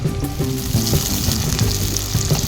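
Chopped onion and green chili fry in hot oil in a pan, a loud continuous sizzle with bubbling crackle throughout and no voices.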